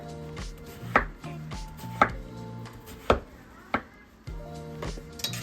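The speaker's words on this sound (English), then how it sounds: "we're gonna go ahead and get the watermelon all chopped up" A knife chops watermelon into small pieces, with sharp, evenly spaced thunks on a cutting board about once a second over a low background hum.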